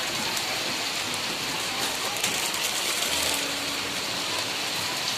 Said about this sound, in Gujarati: પાછો વરસાદ જો ચાલુ થઈ ગયો છે